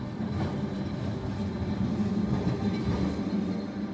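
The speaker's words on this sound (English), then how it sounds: "the iconic tram still running through the streets" Lisbon tram rumbling along city streets in the Belém district, a steady low rolling rail noise with wheel and track clatter holding at even loudness throughout, no voices.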